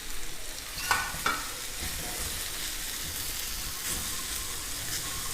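Poppy seeds and kasuri methi dry-roasting in a pan over a medium flame, a continuous soft sizzling rustle with a couple of brief scraping clicks from a stirring spoon near the start, close by, no speech.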